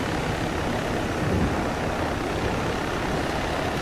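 Steady, loud broadband rotor and engine roar of a military helicopter, heard from inside the cabin as a continuous dense noise with no pauses or spoken voices.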